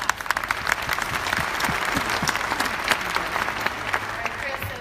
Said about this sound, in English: We're getting some claps.